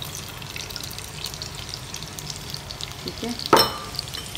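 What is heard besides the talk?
onions frying in hot oil in a pot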